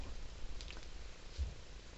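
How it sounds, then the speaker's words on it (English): A cat snuggled in a fuzzy blanket purrs softly, a low, steady rumble heard close but faint, with light rustling of fabric. "this is my sister's kitty, Koga"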